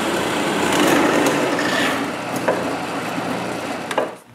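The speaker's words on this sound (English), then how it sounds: "I begin by drilling a hole the same size as my dowels into a scrap piece." A drill bores a hole, matching a dowel's size, into a scrap piece of wood, a steady whirring, grinding tone that tapers off as the bit finishes, close and alone.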